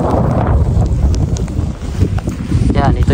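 Strong gusting wind in a Greenland snowstorm roars and buffets the microphone continuously, loud and close, with a faint rustle of blowing snow underneath.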